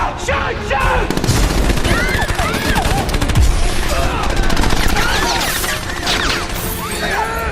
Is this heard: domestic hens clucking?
no